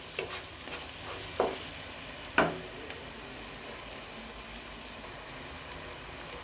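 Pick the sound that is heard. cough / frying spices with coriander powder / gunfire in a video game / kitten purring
frying spices with coriander powder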